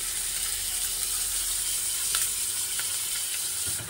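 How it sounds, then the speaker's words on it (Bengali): Chicken pieces sizzle steadily in hot oil in a pan, a constant bright hiss with occasional small pops and stirring clicks, close and uninterrupted. "এখন আমি সবগুলো একসাথে দিয়ে একটু ফ্রাই করে নেব।"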